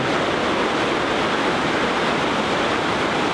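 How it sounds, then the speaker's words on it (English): Water rushes loudly and steadily through an underground waterway, a continuous broadband roar with no pauses and no voices. "find out the source of all that rushing water"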